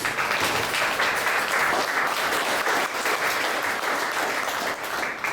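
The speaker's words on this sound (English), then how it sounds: "So please give a round of applause." Sustained audience applause fills a room at a morning pitch event for a music organization, steady, dense clapping with no voices over it.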